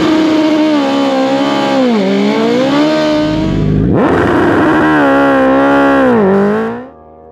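A BMW S1000RR sport motorcycle races on a track, its engine revving hard and loud through rising and falling pitch sweeps, with a sharp shift near the middle and a quick fade at the end.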